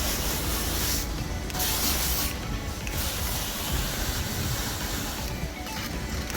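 Surfactant softwash mix sprays onto a tile roof in a steady, loud, close hiss. The broad spray dips briefly a few times as the nozzle pauses or shifts.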